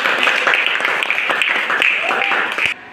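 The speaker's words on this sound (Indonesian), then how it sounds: "Tepuk tangan dong untuk Yolanda" A classroom breaks into applause for a student, steady dense clapping from many hands that stays loud throughout before cutting off abruptly near the end.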